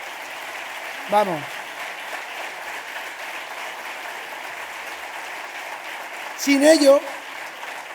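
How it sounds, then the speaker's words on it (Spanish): A crowd at a political rally applauds steadily, a continuous wash of clapping that runs the whole time at moderate distance, with someone speaking briefly over it twice. "Un aplauso a este pueblo que nos ha acogido."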